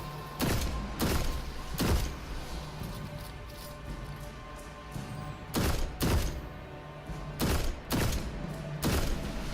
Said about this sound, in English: this scout rifle is not bad at all